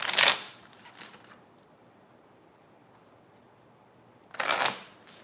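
Two short bursts of tarot cards being shuffled, one at the start and one near the end, separated by near silence with a faint tap between.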